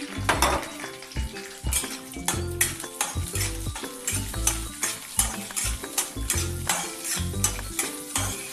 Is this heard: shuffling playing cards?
no